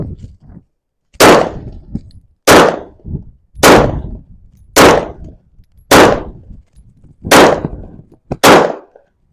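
Ten pistol shots fired at an outdoor shooting range on a windy day, sharp loud cracks spaced roughly a second apart in a steady rhythm, each with a brief echoing tail.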